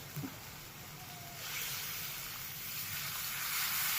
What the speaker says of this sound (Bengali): এইবার দিয়ে দেবো জল।